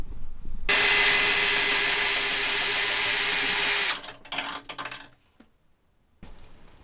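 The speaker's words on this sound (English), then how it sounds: "So we're going to go ahead and remove those 4 bolts next." A power drill backs out the mounting bolts of a rooftop A/C unit on a camper. It gives a steady, loud whine for about three seconds, then stops, followed by a few light metallic rattles and clinks.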